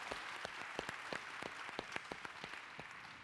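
A handful of scattered, faint hand claps from a sparse audience at a world leaders' dialogue event, irregular and isolated rather than a full ovation, over quiet room tone.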